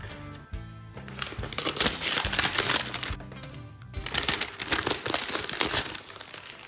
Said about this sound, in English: So it's got this nice cover on it. Peel that back.